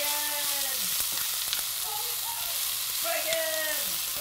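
Bacon sizzling loudly in an oiled frying pan with Cuban food cooking, a constant close frying hiss with light stirring clicks and faint background voices.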